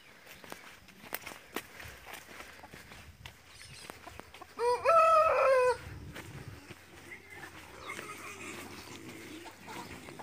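Chickens clucking faintly nearby on a rural farm amid shuffling footsteps, with one louder bird call bursting out briefly in the middle.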